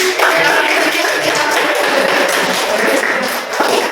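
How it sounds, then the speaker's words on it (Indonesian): Applause from a classroom group, dense steady clapping filling the whole stretch, fairly loud and close, with faint voices mixed in. "Oke, beri aplaus untuk kita semua ya"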